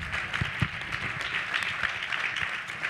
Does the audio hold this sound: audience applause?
yes